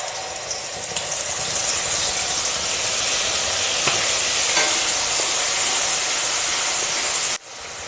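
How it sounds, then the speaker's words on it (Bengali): Tomato paste and chili dropped into hot oil in a Bengali home kitchen, a loud, dense, steady sizzle and hiss filling the whole stretch, with a couple of faint clicks before it drops abruptly near the end; nobody talks. "এবার এই তেলের মধ্যেই দিয়ে দিচ্ছি টমেটো বাটা লঙ্কা টমেটো বাটা"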